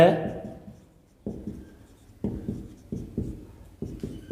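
Chalk or marker strokes on a classroom board while a chemistry definition is written out, several short scraping bursts in a steady rhythm after a brief opening sound, close and fairly quiet, with no talking.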